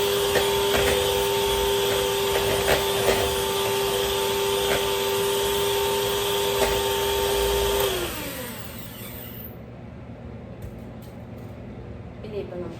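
An electric hand mixer whirs steadily as it beats rich Christmas plum cake batter with vanilla essence, a loud continuous motor drone that cuts off near the end, leaving quieter background noise.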